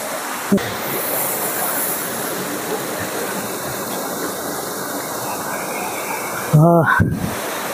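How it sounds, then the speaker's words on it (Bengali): Cold water pours steadily down from a rocky hilltop at Ghatshila into a pool, a continuous broadband rush heard close by, broken near the end by a brief louder splash or thump. "এই যে পাহাড়ের উপর থেকে জল পড়ছে"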